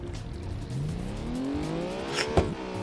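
A car engine in the BeamNG driving game revving up, a rising whine climbing steadily in pitch before a sharp burst near the end, close and prominent with no talk over it.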